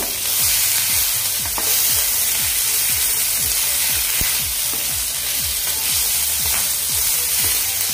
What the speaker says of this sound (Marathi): आता यामध्येच आपण काजू घालणार आहोत। हे व्यवस्थित असं फ्राय करून घ्यायचं सर्व।